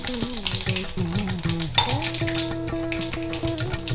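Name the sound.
mustard seeds and urad dal frying in hot oil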